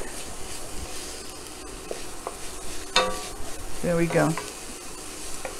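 Ingredients for a Tuscan white bean soup with bacon sizzle and fry in a pot with a constant hiss, a short stirring clatter, and a brief spoken remark partway through.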